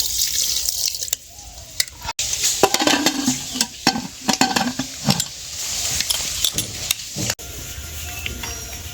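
Water is poured into a pot of mutton seasoned with salt and turmeric, splashing and sloshing in bursts with stirring scrapes, fairly close and loud, with no talk.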